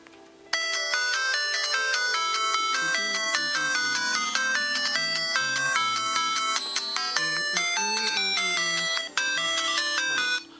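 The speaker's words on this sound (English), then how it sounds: "Go to ringtones and perform and listen to the first ringtone" A ringtone from the Zedge app on an Android phone plays loud and alone, a bright, busy electronic melody with steady repeating notes from start to finish.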